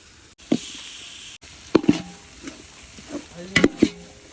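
Onion, ginger, garlic and tomato masala with chilli powder and meat masala being sautéed in a pan over a wood-fired stove, with scattered scraping stirs and knocks against a low sizzle, no talking.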